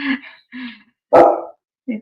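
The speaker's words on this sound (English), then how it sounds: "My dog is barking because it's thundering and lightning." A dog barks several times nearby during a thunderstorm, a couple of lower gruff woofs followed by one loud sharp bark and a final short bark.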